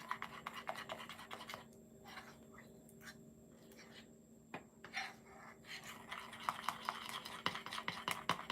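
A spatula scrapes and stirs a pumpkin spice bark mixture in a bowl with a soft, continuous rubbing rhythm, close and fairly quiet over a low background hum.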